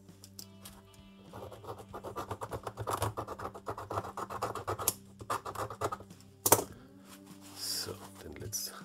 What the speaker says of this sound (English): if we scratch here again, so always take care with these kind of knives that you don't cut yourself